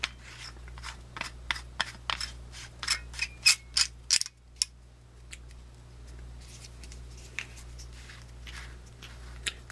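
A solar hybrid flashlight being screwed closed, its threaded parts with a rubber O-ring seal giving a quick series of close ratcheting clicks and scrapes that slow and thin out toward the end.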